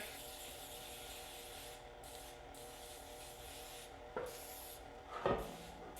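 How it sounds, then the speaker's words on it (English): Pam baking spray hisses in two short bursts onto a pan in a home kitchen, the second burst louder and longer, over a steady background hum with no talking. "I also need to grease it. So, baking spray."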